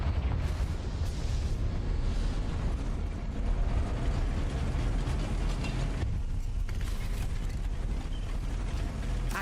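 Explosion from the Confringo spell in the Hogwarts Legacy video game, heard as a steady dense rumble of blast and crackling effects with no clear single bang, sitting fairly quiet under the game's background sound.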